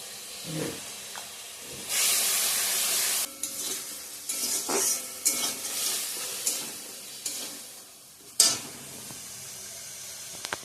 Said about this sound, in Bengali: মশলাটাও কষানো হয়ে গেছে, তেল ছেড়ে দিয়ে দিছে